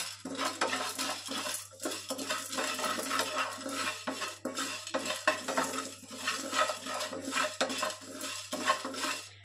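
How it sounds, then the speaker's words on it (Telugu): Cumin, curry leaves and chana dal frying on a low flame in a pan, with steady soft sizzling under repeated close scraping and clinking of a spoon against the metal pan throughout. "వీటన్నింటినీ లో ఫ్లేమ్లో పెట్టుకొని బాగా వేయించుకోవాలి."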